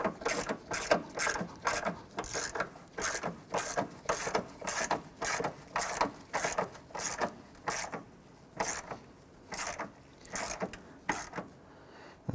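A ratchet snugs down a bolt while a variable valve timing solenoid is replaced on a 2006-2013 Chevrolet Impala, giving steady rhythmic bursts of close, crisp clicking strokes for about twelve seconds with no talk.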